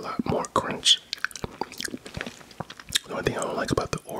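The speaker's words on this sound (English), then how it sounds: "I believe the Oreos make a lot more crunch." Close, crunchy chewing of an Oreo McFlurry from McDonald's, with sharp bites and mouth sounds arriving in irregular bursts alongside soft whispered talk.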